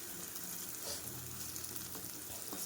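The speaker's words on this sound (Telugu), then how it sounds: "చాలా తక్కువ క్వాంటిటీ ఆఫ్ అల్లం వెల్లుల్లి పేస్ట్ అయితే వేసుకుని ఇలా వేపేసుకోవాలి" Cauliflower pieces frying in a pan with a little ginger garlic paste, a faint, even hiss of sizzling oil with a few soft stirring knocks.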